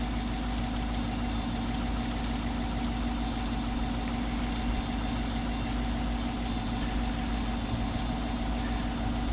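A truck engine idles steadily and alone, a constant low mechanical drone with a faint knock and no change in level throughout.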